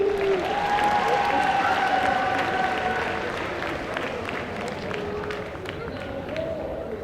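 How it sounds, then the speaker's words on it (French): An audience at a singing and dance contest at the Clermont Geek Convention claps steadily, a thick wash of applause and crowd babble that stays loud throughout, with a few voices over it. "Allez, applaudissez-le bien fort."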